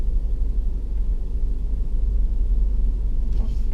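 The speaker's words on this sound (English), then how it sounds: "Sorry, I got a National Grid truck right in front of me." A National Grid truck directly ahead gives off a low, constant engine rumble, close and steady throughout, with faint road noise.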